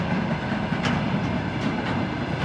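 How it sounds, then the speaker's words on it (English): A train rolls past on railway tracks in Kazakhstan, giving a loud, continuous rumble with faint rhythmic clacks of wheels over rail joints. "There's one train going in our way and there's another train going in our way."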